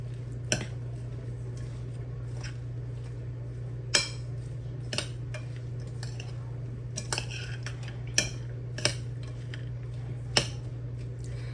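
Seasoning salt is mixed into garden vegetables in a dish, with soft scattered clinks and squishy scrapes of a utensil over a steady low hum, close by and without speech.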